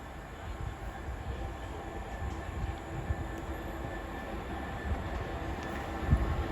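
Class 66 diesel locomotive 66 786 at Peterborough on the East Coast Main Line, a steady low rumble of the engine and rolling wagons holding at an even level throughout, fairly distant, with faint clanks near the end.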